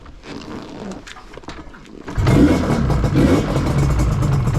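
A Yamaha RZ350 two-stroke motorcycle engine fires up about halfway through after quieter handling noise, then settles into a loud, steady, close idle with light blips of revving.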